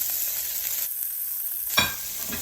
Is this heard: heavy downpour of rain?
no